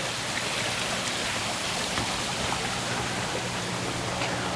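Continuous rushing water from garden waterfalls pours and splashes steadily, close and fairly loud, with no talking.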